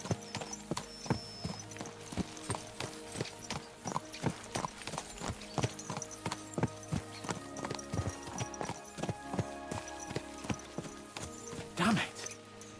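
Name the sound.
horses galloping, hooves clip-clopping, in video game Kingdom Come: Deliverance II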